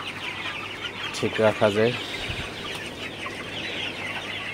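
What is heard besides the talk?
chickens clucking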